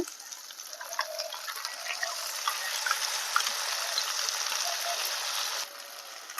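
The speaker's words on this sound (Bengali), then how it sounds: "পেঁয়াজটা হালকা ভাজা হয়ে গেলে দিয়ে দেবো আদা রসুন বাটা" Ginger-garlic paste hits lightly fried onions in a hot pan, giving a steady close sizzle with scattered small crackles that drops slightly in level near the end.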